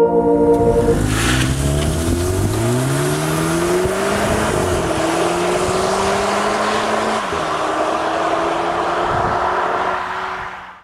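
A car is driven during a driving lesson in Germany, its engine loud and close, rising in pitch through the gears with a steady drone and road noise throughout, and no talk heard.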